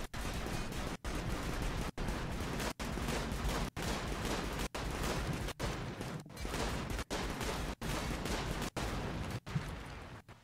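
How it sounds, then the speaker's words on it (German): Dense gunfire rattles nonstop at a tank in RimWorld, a loud fusillade of rapid shots broken by short regular gaps about once a second, with no talking over it. "Jetzt schießen wir den Panzer hier drinne."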